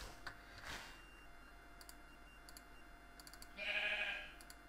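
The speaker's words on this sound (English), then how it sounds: "Hey sheep, can I have your wool?" A Minecraft sheep in Beta 1.2 gives one short, quiet bleat near the end, among faint game clicks and an otherwise near-silent background.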